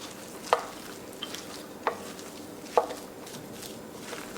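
Cooked onions and cheese get stirred into a potato pierogi filling, a quiet soft mixing with three distinct clicks of a spoon against the bowl over faint background hiss.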